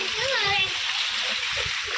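Water rushes and splashes continuously with a steady hiss, while people talk over it nearby.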